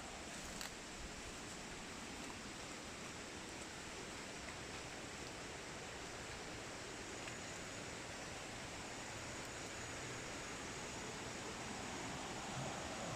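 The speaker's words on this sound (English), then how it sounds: "Creek is right down there." A creek on a homestead flows during the rainy season, a steady broadband rush of water that stays constant and fairly faint throughout, with no voices.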